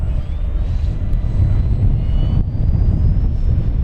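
An FMS Pitts V2 1400mm RC model airplane takes off on a windy day, its electric motor whine rising steadily in pitch over constant loud wind rumble.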